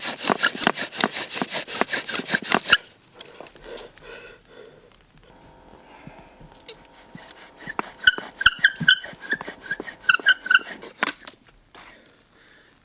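Bow drill spindle turning on damp wood with a lubricated bearing: fast rhythmic rasping strokes at first, then a pause and slower squeaky grinding strokes, close and alone.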